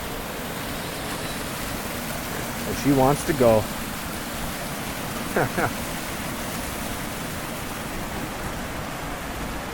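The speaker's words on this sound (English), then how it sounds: "Here's a beautiful little waterfall." A small waterfall about six or seven feet high at Worlds End State Park gives off a steady, even rush of falling water that never lets up, with a few brief voices over it.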